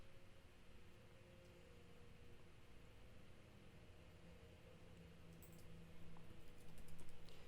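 Faint, soft keystrokes on a computer keyboard patter quietly over a hiss of background noise, growing a little busier and louder toward the end, with no voice.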